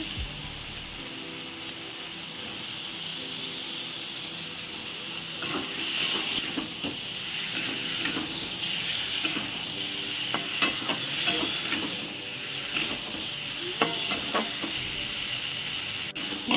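Potatoes frying in a pan for a potato curry, a continuous hiss and sizzle with repeated scraping and stirring clatter, moderately close and steady without talk.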